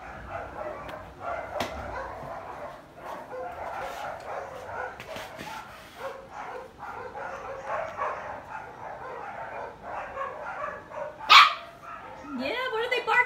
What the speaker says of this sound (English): what are they barking for?